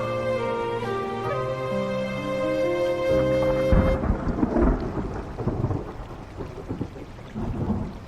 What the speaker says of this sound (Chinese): 要下雨了